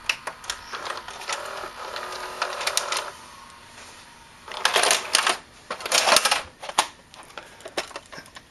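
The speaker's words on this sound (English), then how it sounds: "When it's rewinding in fast mode, it's dragging the tape along the drum." General Electric VR2040 VCR from 1996 fast-rewinding with tape dragging along the drum, a near, rapid mechanical clattering and whirring in uneven bursts separated by quieter stretches.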